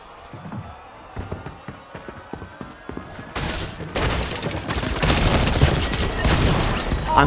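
Video game gunfire, shots crackling in a rapid run of sharp bursts that grows louder and denser into a sustained barrage, with heavy booms mixed in.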